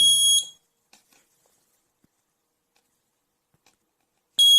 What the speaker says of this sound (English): the buzzer rises the sound